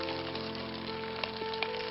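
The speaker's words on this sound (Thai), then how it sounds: "ทอดหมูยอครับ" Slices of Thai pork sausage (moo yor) frying in a pan at home, a steady soft sizzle and crackle with a few tiny pops, close and continuous with no talk.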